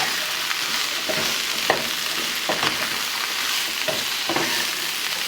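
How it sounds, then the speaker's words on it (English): Whole okra and potatoes frying with spices over medium-high heat, a dense, constant sizzle close by, broken by several soft scraping strokes of a stirring spoon, with no talking. "Stir it nicely. Heat is still medium high. Make sure the whole okra, everything is coating well with the spices."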